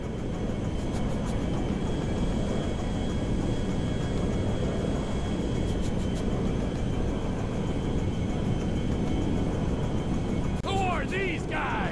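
Merryweather jet in flight in GTA V, a steady loud roar of the engines holding throughout, with faint radio chatter and a short burst of higher tones near the end.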